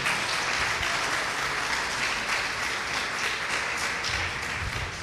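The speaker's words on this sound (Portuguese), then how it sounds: "Pode aplaudir o Senhor." A church congregation applauds together, a dense, steady wash of clapping that carries on evenly without a break.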